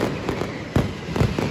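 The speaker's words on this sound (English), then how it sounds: "mascletas, which are shows of like really loud firecrackers" Really loud mascletà firecrackers at the Fallas festival in Valencia, Spain, go off in a dense rapid barrage, with several heavier booms punching through a continuous crackling roar.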